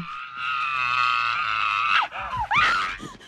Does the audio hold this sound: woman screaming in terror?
yes